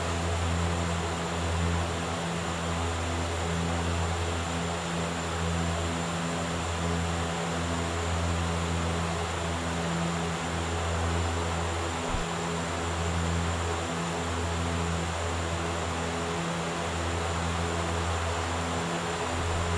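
Inside the cockpit of a Dash 8 Q400 turboprop in the X-Plane flight simulator, a steady loud engine and propeller drone hums with layered tonal whine and broadband rush, unbroken throughout and without talk.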